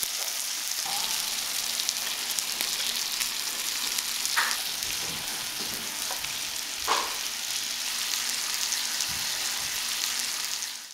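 Beef, egg and pâté fry in a hot pan, with a continuous close sizzle and occasional stirring scrapes and clicks.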